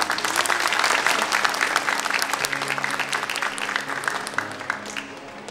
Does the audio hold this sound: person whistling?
no